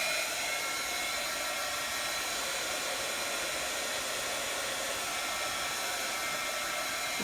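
A hair dryer blowing to dry paint on a craft journaling page, a steady, loud, close hiss of air running unbroken and unchanging throughout, with no talking.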